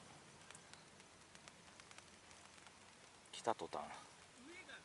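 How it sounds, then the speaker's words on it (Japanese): Rain falling on a beach campsite in Okinawa, heard as a steady, faint broadband patter throughout, with a person speaking briefly near the end. "雨音が聞こえまして、降ってきてますね"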